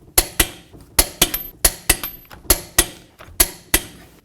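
A torque wrench clicks over and over while lug nuts are tightened to 140 foot-pounds on a 2007–2014 Cadillac Escalade wheel, giving sharp metallic clicks in quick, uneven pairs, close and clear with no talking.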